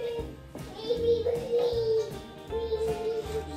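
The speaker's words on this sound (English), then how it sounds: "if you hear the kids in the background, they're just playing over there" Children play and chatter in the background of a home kitchen while onion rings are made in an air fryer, with a voice talking up front. The kids' voices stay steady and fairly distant under her speech.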